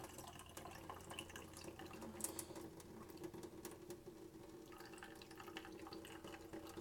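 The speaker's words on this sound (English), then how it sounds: "As you can see, water's still coming out of it." Water from cooked noodles drains and trickles through a sieve in a steady, faint patter of drips close by, with no talk.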